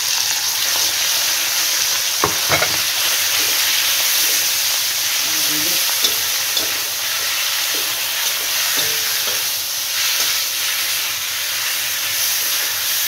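Pork marinated in soy sauce, salt and pepper sizzles steadily in a hot pan, a dense frying hiss with occasional stirring clatters and a voice speaking softly underneath.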